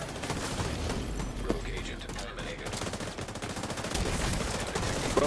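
Shotgun blasts from a video game crack out in a dense, continuous barrage, loud and close, with overlapping shots and game effects throughout.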